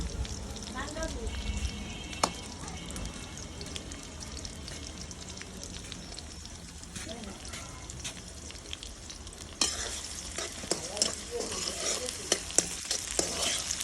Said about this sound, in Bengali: পেঁয়াজটা কড়াইতে ভাজা ভাজা করতেছে আমাদের এক আপা